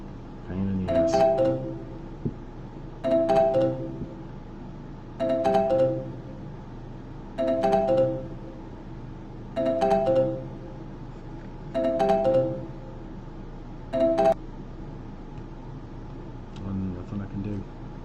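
A phone rings over and over with a chiming electronic ringtone, seven regular bursts spaced about two seconds apart, clear and close, then fading at the end.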